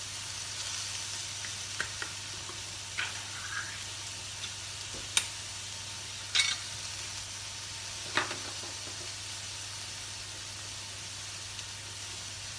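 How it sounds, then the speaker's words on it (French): Food sizzles and browns in a wok in a steady, soft hiss, broken by a few sharp crackles and pops, with no one speaking. "sont dans le wok, donc vous les laissez mijoter pour qu'elles prennent couleur"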